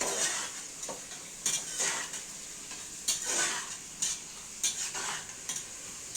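Onions frying with whole spices in a pot for Sylheti-style cow trotter (paya) curry, a steady hiss broken by repeated sharp scraping stirs and clinks of a utensil against the pan, close and with no talking.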